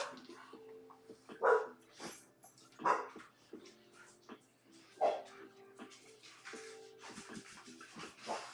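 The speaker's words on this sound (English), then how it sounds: "let me go see what the dogs are barking" Dogs barking indoors: repeated loud barks about every one to two seconds, mixed with whines and scratching.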